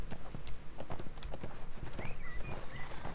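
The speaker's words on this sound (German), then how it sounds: "Alle kommen sie auf dem Pferd dahin." Horse hooves clip-clop in a steady, busy rhythm in the ArcheAge video game, with a few faint whinny-like tones over continuous background noise.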